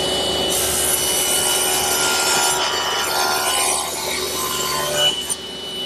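A table saw rips an eighth of an inch off each edge of a wooden board, a loud continuous rasping cut with a steady grinding texture that eases off briefly near the end, with no voices.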